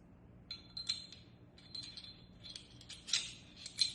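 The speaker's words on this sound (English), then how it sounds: "So let's start reassembling this by putting back our barrel." Metal parts of a Canik Mete MC9 pistol click and clink together during reassembly, giving sparse, sharp, close taps and light rattles separated by short quiet gaps.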